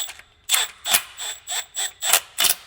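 Impact gun on its lowest setting driving a Loctite-coated bolt into a new air-cooled turbocharger on an LS1 Trans Am: six or seven loud, close, rapid rattling bursts in a steady rhythm, each short with brief gaps between.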